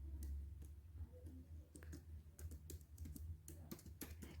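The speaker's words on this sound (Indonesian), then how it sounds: "Lalu kita akan mencoba ngetik" A computer keyboard is typed on at an irregular pace, producing close clicking keystrokes in short bursts over a low, quiet room hum. No one speaks.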